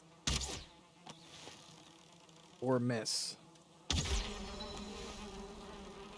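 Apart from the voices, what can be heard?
angry bees buzzing in Valheim video game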